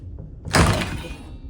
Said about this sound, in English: very heavy doors